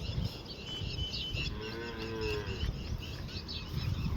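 Cows low in a drawn-out moo at a moderate distance on a farm, one clear call rising in the middle over a steady outdoor hum of insects and background noise, with no talking.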